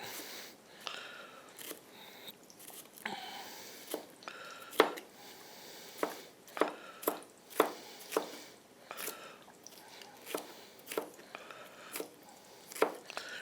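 A knife slices through food on a cutting board for a blackened snapper dish with shrimp and crawfish sauce, producing a steady series of close, crisp knocks at an unhurried pace, with no talking.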